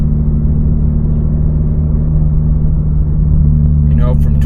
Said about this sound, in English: Driving along some side streets here for you to get the neighborhood type sound.